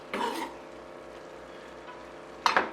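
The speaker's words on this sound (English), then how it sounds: "go in with my onions, and that is just a large onion diced" A large diced onion and two cloves of garlic fry in a little fat, giving a soft, steady sizzle with louder bursts of stirring near the start and end.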